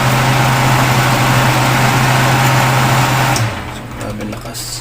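Exhaust fan with a freshly rewound motor running, a loud steady hum with strong airflow rush and a rattly buzz, close by, then easing off near the end, with someone speaking.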